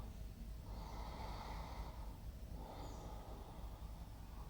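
Slow, deep breaths during Hara meditation, two long airy inhale-exhale swells, close and soft, with a faint snort-like rush, no speech.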